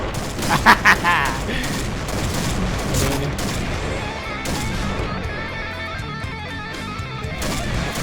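Barrett sniper rifle fire in the online shooter Point Blank, sharp loud shots near the start amid ongoing gunfire and game noise, with a voice talking over it.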